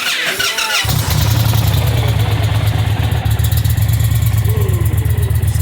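A 2023 Indian Challenger motorcycle on its stock exhaust fires up from cold after a brief quiet moment, then settles into a loud, steady, deep rumbling idle that continues unbroken to the end.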